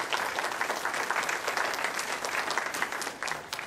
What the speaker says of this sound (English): So just please a round of applause and thanks to these guys.